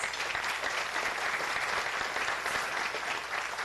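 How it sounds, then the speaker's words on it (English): A large audience at a diversity awards celebration in Indianapolis claps steadily for sponsors, a dense, even wash of applause that holds at a constant level throughout with no talk above it. "Let's go ahead and give them a round of applause, please."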